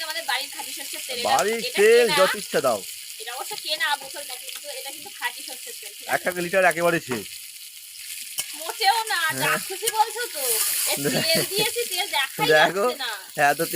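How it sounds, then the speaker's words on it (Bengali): Boiled potatoes fry in a little oil, giving a steady low sizzle with stirring scrapes. Voices talk over it in frequent bursts, and the sizzle fills the pauses between them. "এবারে আলুগুলো ওখানে ভেজে নাও"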